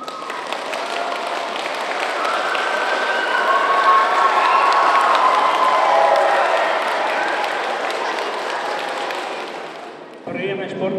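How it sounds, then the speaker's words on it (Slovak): Loud audience applause and cheering from children at a youth sports morning event in Senec, Slovakia, swelling and fading over about ten seconds before the roar cuts off abruptly. "Takže teraz poprosím pre nich veľký potlesk."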